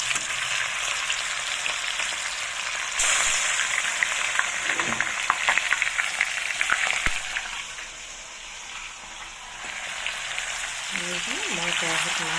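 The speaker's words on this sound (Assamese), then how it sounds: "দি মই এপিচ এপিচকৈ এতিয়া মাছখিনি ফ্ৰাই কৰি ল'ম।" Pieces of fish fry in hot oil in a wok, giving a close, steady crackling sizzle with occasional spatters and stirring sounds, and a voice speaks briefly over it.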